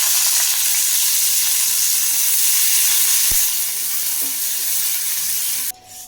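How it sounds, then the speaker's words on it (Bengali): Onions, green chillies and garlic fry in hot oil for tomato bharta, a loud continuous sizzle and hiss with one sharp knock of a utensil partway through, before the sound drops off abruptly near the end. "এই পেঁয়াজগুলোকে আমি এখন ভাজবো, লঙ্কা ভাজবো, সাথে রসুন ভাজবো"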